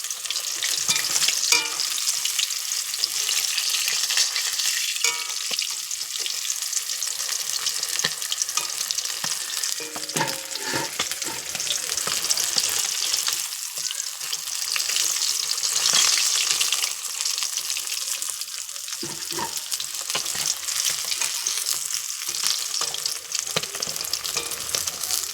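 Whole pond fish fry in a pan of hot oil in a village home kitchen, a loud continuous sizzle with bursts of spattering and occasional scraping as pieces are turned and lifted out.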